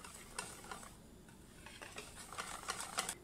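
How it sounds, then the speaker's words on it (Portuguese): A whisk stirring carrot cake batter with sifted flour in a bowl, soft repeated scraping and tapping strokes, quiet and close, with no talking. "eu pego um fouet, tá? E vou mexendo até ficar tudo bem misturadinho."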